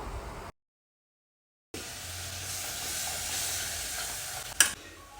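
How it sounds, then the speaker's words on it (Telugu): Puréed tomato goes into a frying, spiced Malabar spinach curry and is stirred, giving a soft steady sizzle with faint scraping after a brief silent gap and a sharp clink near the end. "దీంట్లో ఒక మీడియం సైజ్ టమాటాని ప్యూరీ చేసిన అది వేస్తున్నా"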